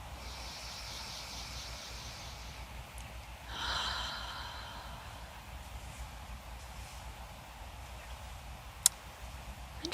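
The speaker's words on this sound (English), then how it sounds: "take a deep breath in" A single slow, deep breath drawn in during a guided EFT tapping session, a soft airy rush rising and fading over about a second against a quiet, faintly humming room.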